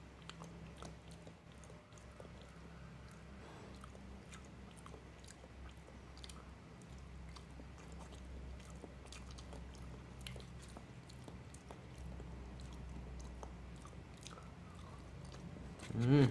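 Someone chews and eats khanom mo kaeng, a Thai custard dessert, with soft, close mouth sounds and faint crunches running steadily for the whole stretch, no talk.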